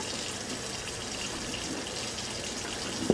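Cold water pours from a kitchen tap into the sink in a steady, close, even rush that holds throughout, ending with a short knock.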